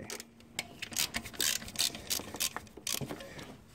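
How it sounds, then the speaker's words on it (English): A 12mm spanner ratchets in short clicking bursts while slackening the alternator on a Toyota Vitz, the dry mechanical ticks close and irregular with brief pauses between pulls. "Right, looks like a 12mm spanner."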